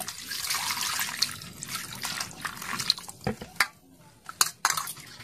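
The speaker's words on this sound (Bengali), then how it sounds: "ভালো করে জল দিয়ে পেঁপেগুলা ধুয়ে নিব।" Papayas being washed with water in a village kitchen, a steady splashing, running rush that breaks into separate sloshes and drips toward the end, close by.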